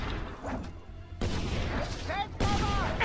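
In the Just Cause 2 video game, a mounted gun fires in heavy, booming bursts of sustained rattling fire, with voices shouting over it.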